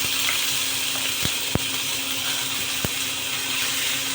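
Ginger-garlic paste frying in a pan after onions: a steady close sizzle and hiss with a few sharp utensil clicks and taps scattered through, no talking.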